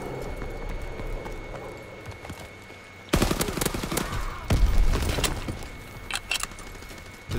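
A submachine gun fires in Call of Duty WWII in fast, loud, close bursts that begin abruptly after a quiet stretch, with several sustained volleys and brief pauses between them.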